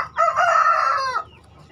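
A rooster crows once among free-range village chickens, one loud, sustained cock-a-doodle-doo lasting about a second before fading out, close to the listener.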